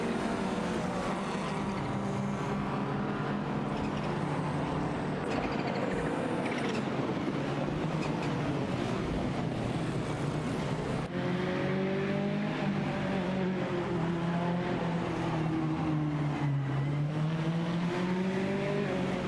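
In a racing game, the engines of a Porsche 944 Turbo and a Tuscan snarl and drone continuously, pitch sweeping up and down with shifts and throttle, several cars overlapping in a steady roar.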